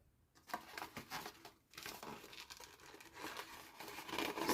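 Paper being folded into a square Stampin' Up! pillow box Easter treat, with continuous close crinkling and creasing rustles and a few sharper crackles, heard alone without talk.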